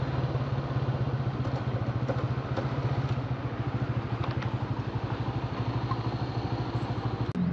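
A parked motorcycle idles near a tunnel on the road toward Attabad Lake, giving a close, steady low rumble with a regular pulsing beat that runs throughout.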